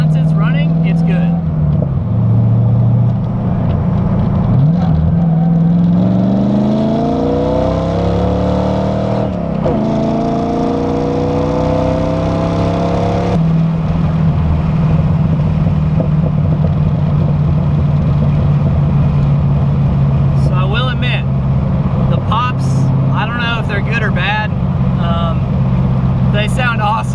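A car fitted with FiTech fuel injection revs and is downshifted while driving under a bridge, its exhaust droning steadily with rising and falling engine pitch throughout, and a person talks over the engine noise for much of the time.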